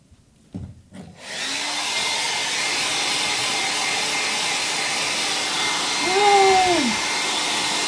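A hair dryer switches on after a couple of clicks and blows steadily to dry artwork, loud and close, its whine wavering briefly as it is moved around.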